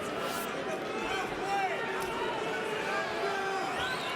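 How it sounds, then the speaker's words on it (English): A Bellator fight arena crowd reacts to a slow jiu-jitsu ground battle, a steady broad murmur of many voices with scattered shouts that stays even throughout, under a commentator's talk. "You hear the crowd not appreciating the jiu-jitsu battle"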